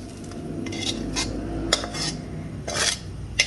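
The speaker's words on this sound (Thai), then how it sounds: "จากนั้นก็คนให้เข้ากันแล้วก็ชิมค่ะ" Spoon clinking and scraping against a pot while stirring Thai minced pork rice porridge with stir-fried seasonings, a series of irregular close metallic knocks over a low background hum, no voices.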